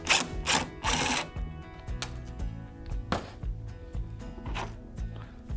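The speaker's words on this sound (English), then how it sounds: "We're going to be removing these two screws from the side panel." Screws are backed out of the side panel of a Coleman-Mach RV air conditioner with a driver, giving close, faint whirring bursts and clicking ratchet-like ticks in short, uneven runs.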